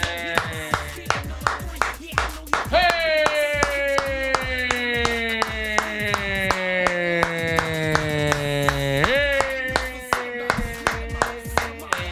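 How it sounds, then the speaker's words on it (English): Steady rhythmic hand clapping, loud and close, with a sustained tonal chime or musical sound running over the middle section while the even claps continue throughout. "See how long you were going to keep clapping"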